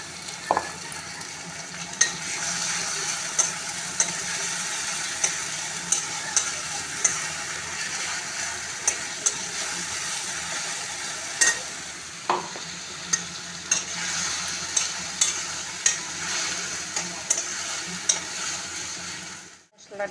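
A ground paste of ginger, cumin, coriander, onion, garlic and green chili sizzles steadily in hot oil while being cooked for prawn pulao, with a spoon scraping the pan in regular sharp knocks, close and alone.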